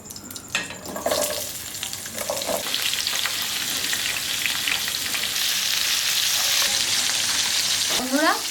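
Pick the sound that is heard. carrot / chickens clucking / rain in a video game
carrot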